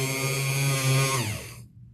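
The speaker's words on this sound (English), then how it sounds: "You turn your Dremel on." Dremel rotary tool drilling into a wooden door hanger, a close high-pitched steady whine that slows and winds down to silence within about two seconds, with no talking.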